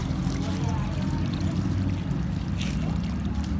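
Water poured into a cooking pot, a continuous close splashing and gurgling stream that runs steadily throughout, with heavy low-frequency rumble and no clear gaps.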